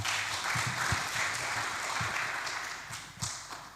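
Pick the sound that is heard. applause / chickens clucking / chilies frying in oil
applause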